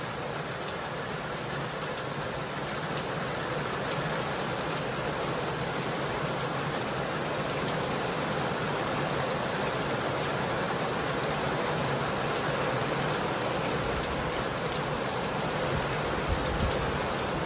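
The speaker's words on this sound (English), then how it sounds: "today's Saturday and it's raining" Steady rain falls continuously, a dense even hiss of drops on surfaces, with no voices and no change in intensity.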